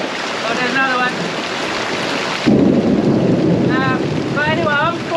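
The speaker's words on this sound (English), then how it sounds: "So we're in the middle of a torrential rain thunderstorm." Torrential rain during a thunderstorm around a boatyard, heavy rain hiss and a deep thunder rumble swelling midway, loud and close, with a voice talking over it in bursts.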